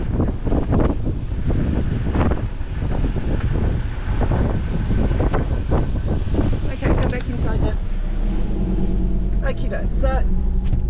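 Wind buffets a microphone through an open car window on a coastal road near Bremer Bay, a steady loud roar with low rumble, while someone talks over it for most of the stretch.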